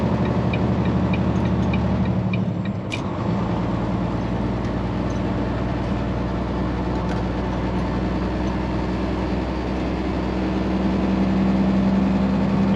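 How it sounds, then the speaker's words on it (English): A semi truck's engine runs loudly and steadily throughout, a broad constant rumble with faint ticking near the start and no talk over it. "I'm sorry if this truck is loud."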